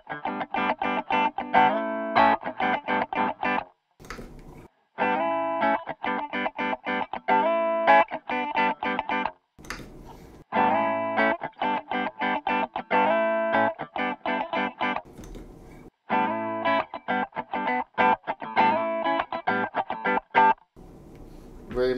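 Electric guitar played through an EHX Nano Doctor Q envelope follower pedal, short rhythmic strummed chord phrases with a quacky, filtered tone, separated by brief pauses, moderately loud and close.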